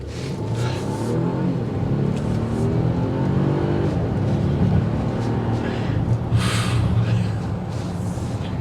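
A 2024 Volvo XC90 Recharge plug-in hybrid SUV accelerating, a steady low engine and road drone that swells slightly, heard from inside the cabin with a faint breathy sound or two.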